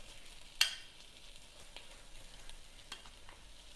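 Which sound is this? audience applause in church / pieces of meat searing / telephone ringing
pieces of meat searing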